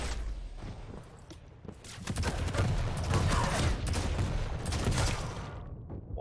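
Rocket explosions and gunfire in a Quake competitive match, a dense run of sharp blasts and mechanical clatter building to a sustained loud burst in the middle, with no talk over it.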